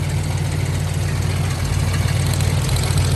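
A Lincoln Town Car engine idles steadily up close, a loud, continuous low rumble with a slight uneven knock and vibration, no talking over it.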